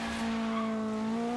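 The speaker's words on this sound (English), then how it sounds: "There's the car coming" A race car in Forza Horizon 3 launches with a loud, steady engine whine on a test circuit, holding one high tone with faint tire scrub underneath and no voices.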